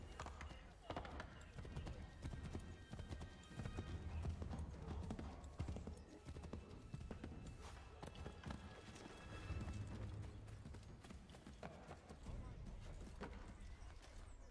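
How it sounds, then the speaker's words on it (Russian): Horse hooves clip-clop steadily as a rider moves through a video game world, a continuous quick rhythmic patter mixed with game ambience, with faint talking underneath. "Теперь у нас есть возможность покататься на лошади"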